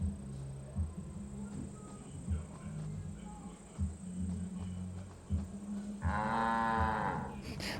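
A cow in Assassin's Creed Valhalla lets out one long, loud moo near the end, after several seconds of faint thudding game ambience.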